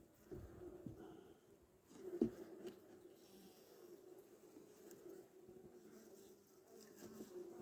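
Honey bees buzz around an opened hive of five frames being inspected before winter, a soft, steady drone held low throughout with a brief louder burst near the start.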